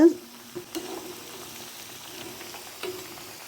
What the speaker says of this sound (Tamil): கட்லெட் இந்த வரைக்கும் பொரிஞ்சது போதும். நம்ம இப்போ எண்ணெயிலேருந்து வடித்து எடுத்துடலாங்க